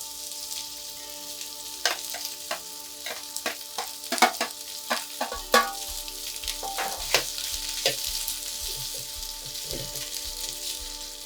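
Pork back fat, the lard for Sapporo miso ramen, frying slowly over low heat in a pan, giving a steady close sizzle with scattered crackles and pops and occasional stirring scrapes, no voices.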